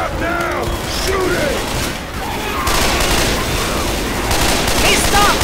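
Sustained gunfire in a Left 4 Dead 2 survival round on the Burger Tank map, rapid continuous shots with mechanical weapon clatter and ricochet whines, loud and close, while players shout over the shooting.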